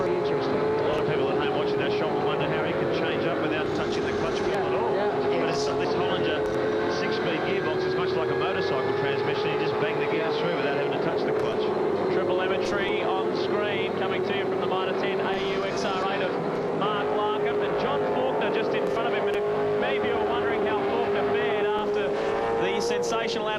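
A V8 Supercars race car engine from the 1999 race at Barbagallo drones steadily through the whole stretch, a continuous high-revving tone with shifting pitch under commentary.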